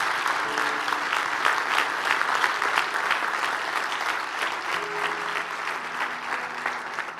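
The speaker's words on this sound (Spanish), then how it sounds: "Damos un aplauso al Señor, porque Él está diseñando cosas que nunca antes habíamos visto." Congregation in a church clapping together for the Lord: loud, full applause from many people, steady and continuous, with faint sustained musical tones from instruments underneath.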